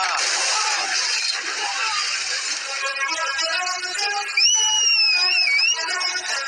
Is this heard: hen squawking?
no